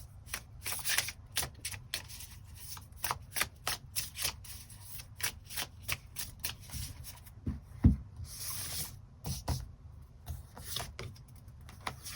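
Tarot cards are shuffled and drawn close by, producing quick riffling bursts and crisp flicks in an irregular rhythm, with soft rubbing and a sharp tap in between and no talking.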